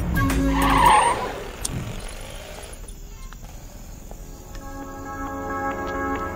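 A car brakes hard with a loud tire skid at the start, then the engine settles into a low idle as the vehicle comes to a stop by the roadside, with faint traffic behind.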